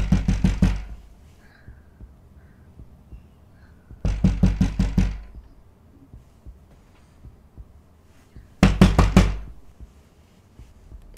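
Heavy knocking on a door in a horror video game comes in three separate bursts of rapid, loud thuds, each a few blows long, with quiet pauses and a low hum in between.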